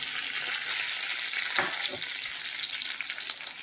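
Cooled urad dal shengolya frying in a pan with turmeric, a steady loud sizzle running throughout with a couple of brief stirring scrapes partway through.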